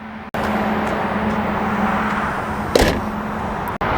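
Steady, loud drone of the 5.0 V8 in a 2025 Land Rover Defender running continuously, with a brief bump partway through and an abrupt cutoff near the end.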